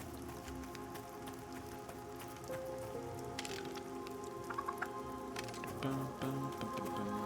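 Soft rain in the video game Pantheon: Rise of the Fallen patters steadily on surfaces, with scattered drips and faint tonal background sounds.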